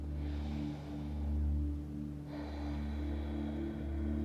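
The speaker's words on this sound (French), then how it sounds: "On inspire normalement par le ventre." One slow, deep breath drawn in through the belly during a guided breathing exercise, a soft rushing inhale and exhale swelling and fading close to the mic over a steady low hum, with no talking.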